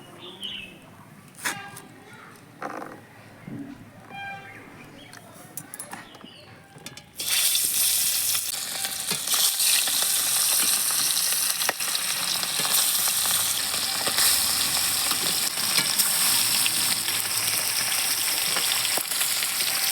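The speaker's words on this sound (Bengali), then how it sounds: "মাছ তো কড়াইতে দিলাম এখন মাছ কিন্তু ফুটছে" After a few seconds of quieter kitchen clatter, a loud, dense sizzle of fish hitting hot mustard oil in a kadai bursts in and crackles steadily, with faint birds chirping in the background.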